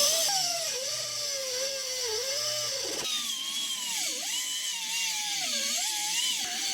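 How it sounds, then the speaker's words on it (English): A small handheld power cutting tool grinds through a stuck body mount bolt on a 40 Series vehicle, a continuous high whine whose pitch dips and rises as the cut loads and eases, close and loud. "the only way to get it out is going to be to cut it out, cut off the bolt"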